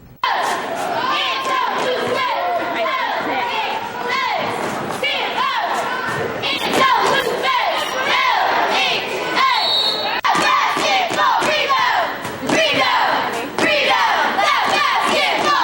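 A loud crowd of students shouting and cheering at a high school girls' basketball game, with cheerleaders performing, a continuous roar of young voices with scattered yells and thuds.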